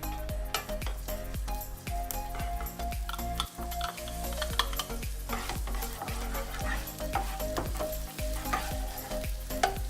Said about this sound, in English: And then we're going to add the ginger.